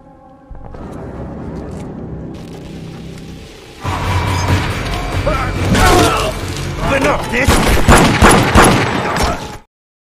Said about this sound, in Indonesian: Baku tembak terjadi di sana, antara para polisi dan para purjing yang mengepung area tersebut.